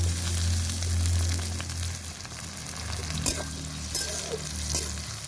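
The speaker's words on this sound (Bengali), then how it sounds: "পেঁয়াজ একটু ভেজে নিয়ে এখন দিয়ে দেব টমেটো কাটা" Chopped tomatoes frying with onions in oil, a soft continuous sizzle with scattered stirring clinks and a sharper knock or two against the pan, over a low steady hum.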